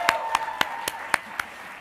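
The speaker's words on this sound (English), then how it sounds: "Can we give him another round of applause?" Six sharp, evenly spaced claps from a few hands ring out close and clear over a quiet room, roughly four per second.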